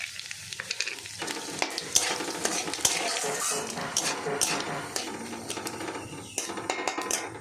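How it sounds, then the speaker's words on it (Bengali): Whole cumin seeds, dry red chillies and bay leaves crackle and sizzle in hot oil left from frying green banana kofta, with a utensil stirring and scraping the pan throughout, close and steady. "সেই তেলের মধ্যে আমি দিয়ে দেব ফোড়ন জিরে গোটা গোটা জিরে শুকনো লঙ্কা আর তেজপাতা"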